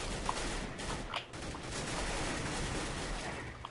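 Counter-Strike: Global Offensive gunfire: dense, continuous rapid shooting filling the whole stretch as a steady wash of noisy cracks, with a few sharper individual shots poking through.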